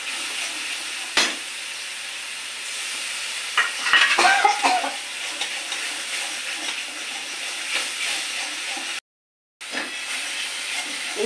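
Onion, green chili and garlic paste sizzle in tempering oil, producing a steady hiss with a few sharp utensil knocks and a brief burst of spattering partway through.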